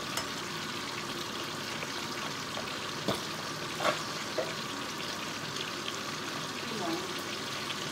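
Soft, steady sizzling of chicken liver stir-frying in a pan, with faint scraping and clinks of stirring at a moderate distance.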